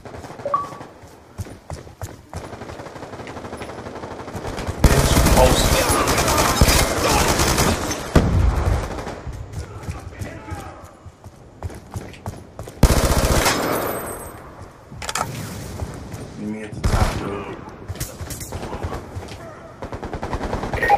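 Machine gun fire in Call of Duty Black Ops 2 multiplayer, with loud sustained bursts separated by quieter gaps and a few single sharp shots over the game's background sound.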